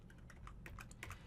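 A few light keystrokes on a computer keyboard, including the tab key, come as soft, quick clicks close by over faint background hum.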